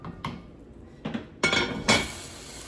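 A pot lid clinks as it lifts off beef tips and gravy, followed by a few faint scraping, clattering stirs against the pot, quiet and close with no talk.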